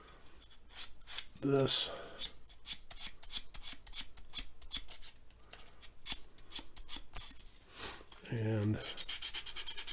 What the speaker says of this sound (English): I'll sand all those, and then actually I want to sand